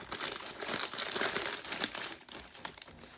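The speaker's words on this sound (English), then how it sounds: "Go behind here, get some tape. And tape them together." Tape is pulled and pressed to hold Dollar Tree items together for a gift basket, giving close, crisp crinkling and rustling in quick, uneven bursts that fade near the end.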